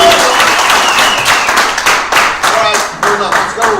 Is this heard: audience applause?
yes